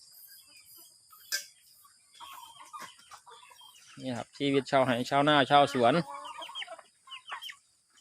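Chickens cluck and call on a 10-rai integrated farm in Thailand, scattered calls at first and then a louder close burst of fowl voices, with someone talking nearby.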